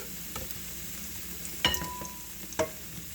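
Fondant potatoes fry in a pan, a soft continuous sizzle broken by two sharp, loud spits of hot fat, with fainter pops in between.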